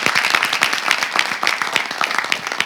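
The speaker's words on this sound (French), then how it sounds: "Applaudissez pour elle" Audience at a talk show clapping for a business school ambassador, individual hand claps distinct in a lively, uneven rhythm, moderately close and steady throughout.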